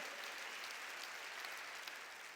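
A church congregation applauds in a steady, faint wash of clapping that carries on evenly without a break.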